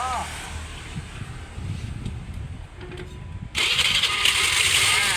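A used big motorcycle at a Thai secondhand bike shop cranks and then catches near the end, jumping into a loud, steady running idle after a quieter stretch of background noise.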